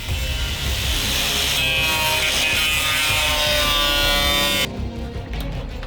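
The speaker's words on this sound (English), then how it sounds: "I did have to get back into cutting because, well, the bumper wasn't going to cut itself." A power tool cuts through a car bumper bodykit with a loud, continuous grinding rasp that stops abruptly near the end, with no voices heard.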